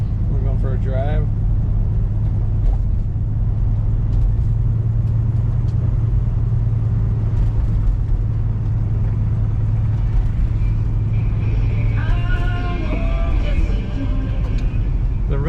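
A 1967 Buick GS 400 convertible, fitted with a Holley carburetor, rumbles steadily at low pitch as it drives. The engine drone stays loud and continuous throughout, with a brief higher whine near the end.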